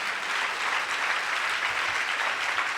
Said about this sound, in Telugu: చప్పట్లు కొట్టని గట్టిగా